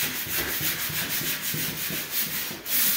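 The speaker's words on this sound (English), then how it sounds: "I've got to scuff up the surface on that wallpaper underneath" Old layered wallpaper being scuffed up before a skim coat, giving a continuous, close, gritty sanding rasp with rhythmic back-and-forth pulses.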